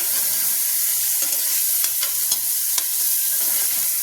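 Vegetables and spices for foxtail millet pulao fry together in a pan, giving a steady, close sizzle with a few sharp scraping clicks as they are stirred, no voices.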